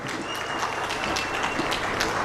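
An audience at an agricultural fair breaks into steady, dense applause that lasts the full two seconds, filling the space with many hands clapping at once.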